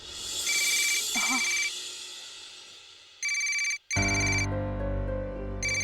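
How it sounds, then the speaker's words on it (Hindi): An electronic phone ringtone plays in repeated tonal bursts, loud and close, cutting off briefly before a fuller melody resumes. "तुम्हारा फोन बज रहा है, उठा लो उसे।"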